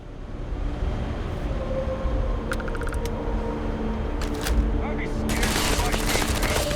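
Bursts of rapid gunfire in the video game Starfield crackle over a steady low rumbling background, with a couple of sharp volleys near the end, no clear talking.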